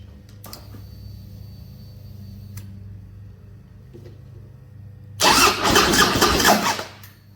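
A Harley-Davidson Big Twin Softail, fitted with a pressure gauge and transducer, sits under a low hum before its engine cranks into a loud, rough burst lasting under two seconds, then cuts off.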